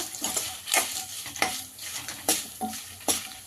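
Cumin and fenugreek seeds fry in a pan for a tangy Telugu chutney, a soft steady sizzle broken by several close scraping stirs of a spoon against the metal, with no voices.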